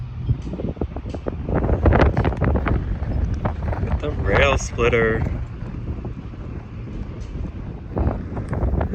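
Gusty wind buffets the microphone on a windy day in Lincoln, Illinois, a low rumbling roar that rises and falls beneath people talking.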